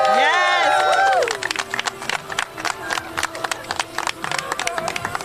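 A crowd at a student-debt event claps and cheers for a woman named Alicia, a ragged burst of clapping with some voices, following a short loud tonal sound at the start.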